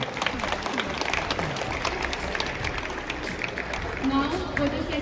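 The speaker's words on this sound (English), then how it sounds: "More, round of applause, more." An audience at a school inter-house debate competition breaks into steady, sustained applause, a dense wash of clapping from a crowded hall that carries on for several seconds.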